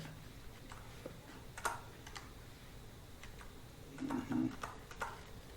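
Computer keyboard typing, scattered light key clicks at an uneven pace under a steady background hum, with a louder burst of keystrokes near the end.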